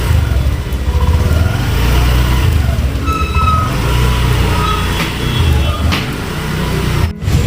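A Honda Activa 6G scooter pulls away after a wash, its engine a steady, loud, close drone among constant vehicle and street noise that runs through the whole stretch.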